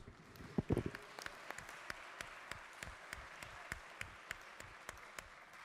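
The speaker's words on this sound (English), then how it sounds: "Please give them a round of applause." Applause fills the House of Delegates chamber during a floor session, a sustained crowd patter with louder near claps early on and scattered sharp claps standing out above the wash.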